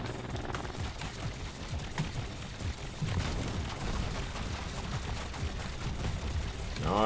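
Gunfire from a helicopter shooting at barrels in the Trailmakers building game, a steady stream of loud, dense shots running through the whole stretch with no talk.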